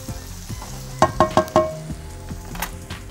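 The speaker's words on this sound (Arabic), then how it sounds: "عندي البصل بتاعي دبل اهو تماما وطري وابتدى يوصل للون الشفاف اللي بعده على طول هيبتدي يتكرمل" Onions frying in a pan, softened and turning translucent, give a steady low sizzle with a few sharp clinks of a utensil stirring against the pan midway.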